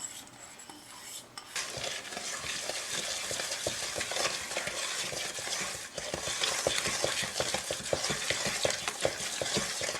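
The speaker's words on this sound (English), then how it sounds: "take the melted shortening, the 1 cup of brown sugar, and the 1 cup of white sugar" Melted shortening mixed with a cup of brown sugar and a cup of white sugar, a close scraping and clinking of a utensil against a bowl in quick repeated strokes, steady and unaccompanied by voices.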